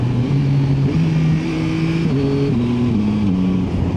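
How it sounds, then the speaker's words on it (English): Yamaha Tracer 9 GT motorcycle engine pulling hard, with a series of quick-shifter upshifts: each gear change cuts the rising engine note and resumes it a step lower, several shifts in steady succession, loud and close, no talk. "the quick shifter, even though it's not their latest generation quick shifter, it's utterly brilliant"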